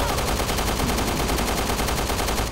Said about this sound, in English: Since when has this been a burst fire gun?